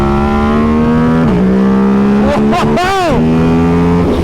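A KTM RC8C motorcycle engine roars close and loud under throttle, rising and dropping in pitch through sharp rev swells. A rider's excited voice cuts in over the engine.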